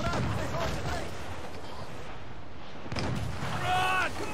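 Naval cannon fire in Assassin's Creed IV Black Flag: heavy booming blasts open the moment and return later, rumbling over continuous sea-battle noise while crew voices call out.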